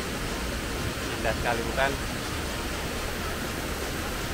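Waterfall on Sumba island surrounded by very high cliffs, a steady broadband roar of falling water filling the whole stretch, with a brief voice speaking over it partway through.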